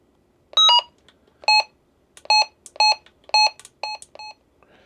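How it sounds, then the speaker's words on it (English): A Retevis two-way radio gives a run of loud, bright electronic beeps, eight short tones in an uneven series of single and paired chirps, close and clear against near silence. "It says Retevis, and it's got the loud beep on."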